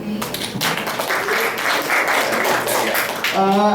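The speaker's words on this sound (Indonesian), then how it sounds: "Tepuk tangan untuk Dek Leo" Students at an Indonesian-language practical exam opening at SMA N 1 Purworejo clap together in a dense, even patter, and a voice begins speaking near the end.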